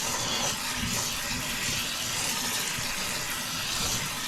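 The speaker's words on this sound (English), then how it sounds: "I am going to just rinse this off real quick with some very hot water" Very hot tap water runs into a kitchen sink as something is rinsed off, a steady hissing splash that holds fairly constant throughout, close by and without talk.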